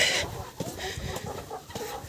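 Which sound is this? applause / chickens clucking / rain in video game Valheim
chickens clucking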